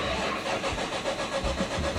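A Nissan Skyline that had been sitting dead cranks over on a jump starter, a steady mid-pitched churning engine sound with rhythmic pulses throughout, loud and close.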